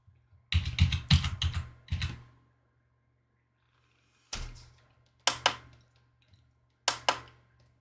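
Quick bursts of clicky keyboard typing, a long flurry first, then several short separate bursts with quiet pauses between.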